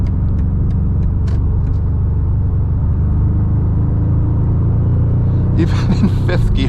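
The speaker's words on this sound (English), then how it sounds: "Even in 5th gear, this thing just pulls off like crazy, and that's very light on the throttle." A 2025 BMW M5 hybrid pulling in fifth gear on light throttle gives a steady, loud low rumble of engine and road noise from inside the cabin, with brief higher rattles near the end.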